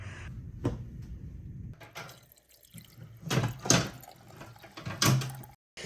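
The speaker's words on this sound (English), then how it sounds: "I'm going to go ahead and make some of this throat coat tea." Water for throat coat tea runs from a kitchen tap in short bursts, mixed with clunks and handling noises, at close range with no voices.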